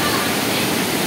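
Water pouring steadily down Ambon-Ambon Falls at Pangil Eco Park in Laguna, a loud, continuous rushing roar filling the whole moment with no break.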